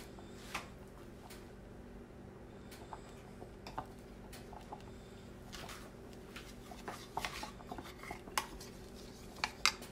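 A spoon clinks and scrapes against a pan as a tablespoon of cornstarch is stirred into sugar-free peach cobbler filling, giving quiet, irregular ticks and taps, near but faint.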